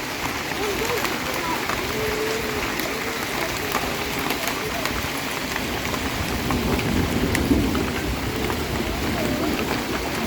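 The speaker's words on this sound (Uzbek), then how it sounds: "Shtorm boshlanibdi. Kattalashyapti o'zi." A storm builds over Lake Issyk-Kul, steady heavy rain hissing nonstop and rumbling thunder underneath, with voices present in the background.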